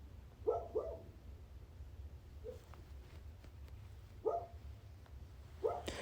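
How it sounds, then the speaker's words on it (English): A dog barks in short pairs and singles, muffled and somewhat distant, separated by pauses over a low steady background hum. "Sorry about my dog in the background."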